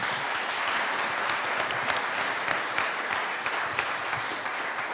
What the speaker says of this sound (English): Give Melissa a big round of applause